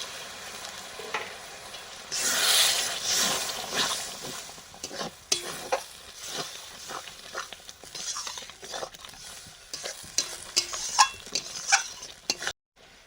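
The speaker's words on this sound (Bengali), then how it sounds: "লবণ, জল দিয়ে মশলাটা কষবো।" Spice paste with chili powder, salt and water stirred and fried in a pan for a village-style chicken curry, sizzling loudly with scraping stirs and clinks of a utensil, close up and without speech.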